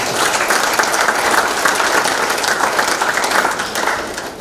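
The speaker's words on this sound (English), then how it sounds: "The crowd erupted in thunderous applause" A crowd at a boxing match bursts into loud, sustained applause, dense clapping filling the whole stretch without any voices standing out.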